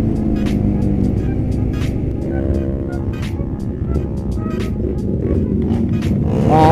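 Motorcycles racing on a road during a Sunday group ride, heard from a moving bike as a continuous loud engine roar with passing vehicles and a rising whine near the end.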